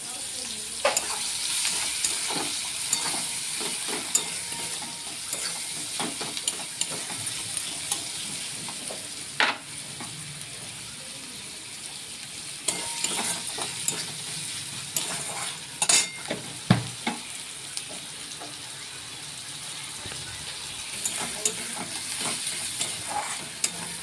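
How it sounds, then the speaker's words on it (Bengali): Sliced onions fry in hot oil for an egg curry, with a steady sizzle throughout and scattered scraping clicks as a spatula stirs them in the pan. "পেঁয়াজ কিছুটা তেলে দিয়ে দিলে পেঁয়াজটা ভাজা হবে।"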